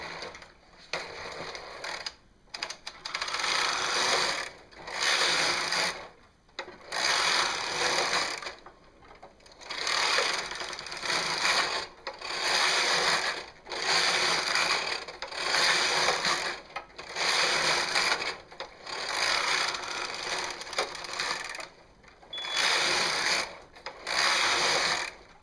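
A Brother knitting machine runs a pattern after a magnet repair, its carriage making repeated mechanical whirring passes broken by short pauses, loud and close, with no talking.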